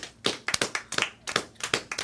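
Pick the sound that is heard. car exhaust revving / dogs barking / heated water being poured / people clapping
people clapping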